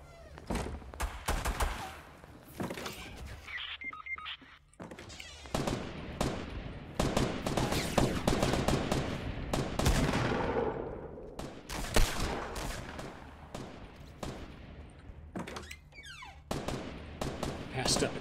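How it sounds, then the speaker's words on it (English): Assault rifle fire in Fortnite, with rapid bursts and clusters of sharp shots that start and stop repeatedly. The shots are close and fairly loud, and a few quieter stretches and muffled sounds fall between them. "There's my assault rifle."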